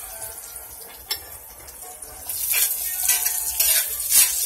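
Lamb meatballs for spaghetti fry in a pan, a close hiss of sizzling oil that swells louder midway, with a sharp utensil tap early on and no talking.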